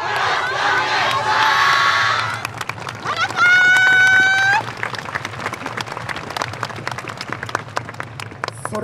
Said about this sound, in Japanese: お手拍子のほどよろしくお願いします